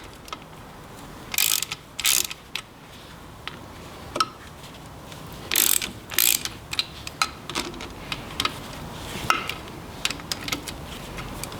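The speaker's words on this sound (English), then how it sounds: "the next step is going to be to undo all these bolts" A ratchet clicks in short bursts while bolts are undone on an oily MGB rear axle, with the quick pawl rattles spaced irregularly between pauses, close and clear with no talk.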